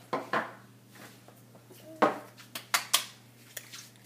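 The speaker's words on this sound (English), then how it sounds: "we'll let him entertain with the spoon for a moment" A baby triplet at mealtime bangs and taps a spoon, producing scattered sharp clicks and clatters at irregular intervals, fairly quiet and close, over a faint steady hum.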